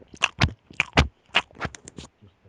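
Someone chews a bite of Domino's pizza close to the mic, producing a run of distinct wet crunching and biting sounds in an uneven rhythm, clear against otherwise quiet surroundings.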